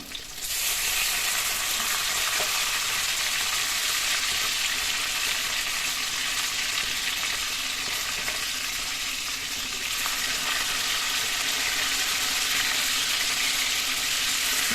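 Fish pieces fry in hot oil for curd fish curry, turned over in the pan, giving a loud, steady, close sizzle that keeps going without a break.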